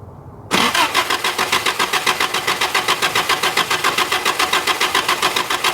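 A 1983 Toyota barn-find engine, sitting for 15 years, cranks in a fast, even rhythmic churn right after a brief quiet moment, the loud mechanical cycling continuing steadily without clearly catching.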